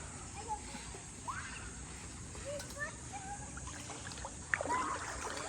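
Clear stream water at a campsite trickles and splashes softly in a steady, faint wash, with small splashes scattered through and a slightly louder splash near the end.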